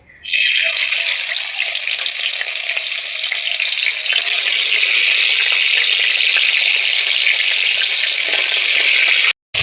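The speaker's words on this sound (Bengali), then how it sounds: "তেলটা গরম হয়ে গিয়েছে এবার আমি মাছগুলো এক করে দিয়ে দিচ্ছি" Salted koi fish fry in hot oil with a loud, continuous, dense sizzle that lasts the whole stretch and stops abruptly at the very end.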